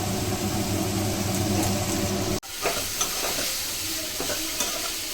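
Spiced fish paste with turmeric, coriander powder and salt fries in a pan while being stirred, a close, steady sizzle with scraping strokes and a brief break midway.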